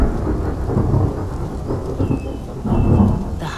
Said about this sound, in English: at this altitude, summer thunderstorms are common.